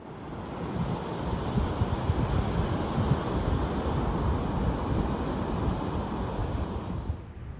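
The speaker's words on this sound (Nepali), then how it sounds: "टक्कै समुद्रमै रहेछ किनारमै सानो पानी पनि बवाल छाल आउने रहेछ" Ocean waves break and wash onto the shore along the Bondi to Coogee coastal walk in Sydney, a loud, continuous roar of surf that stays steady throughout, then drops off abruptly at the very end.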